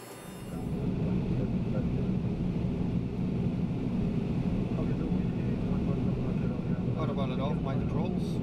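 Cockpit of a Boeing 767-300ER on landing approach into Lisbon, a loud steady engine and airflow roar filling the flight deck, with crew voices calling out the landing checklist over it.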